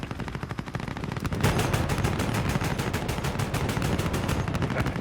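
Air support gunfire in the video game Call of Duty: Modern Warfare, a sustained rapid stream of evenly spaced heavy shots that grows louder about a second and a half in and keeps hammering without pause.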